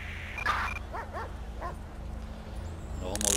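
A police K9 dog in GTA 5 LSPDFR gives a few short yips and whimpering barks, fairly faint, under a low background hum, with a brief voice near the end.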